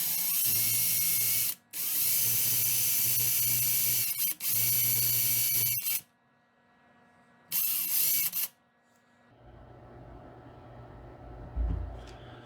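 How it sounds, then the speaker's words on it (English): A drill turns a 3/8 inch Forstner bit into a wooden crankbait fishing lure body. It whines steadily in long bursts broken by short pauses, then quieter handling noise follows near the end. "what I'm going to do is I'm going to use my 3/8 inch Forstner"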